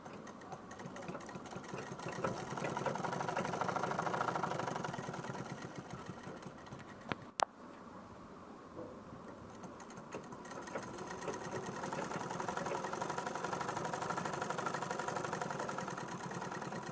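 A sewing machine with a bad underside stitch fault runs steadily with a fast mechanical whir, briefly pausing with a sharp click before resuming its continuous stitching hum.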